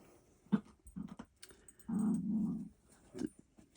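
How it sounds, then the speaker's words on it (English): A dog gives a low, sustained growl lasting about a second, preceded by a few short snorts or grumbles and followed by one brief huff, close and fairly quiet with no talking. "The dog says yeah."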